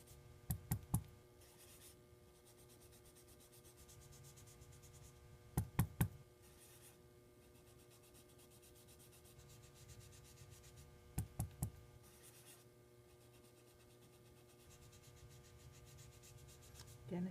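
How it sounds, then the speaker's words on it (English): A pumice stone rubs over stamped grass on paper in a faint, steady scrubbing, broken by three short bursts of quick tapping knocks. "Watch what happens when I use pumice stone on this grass."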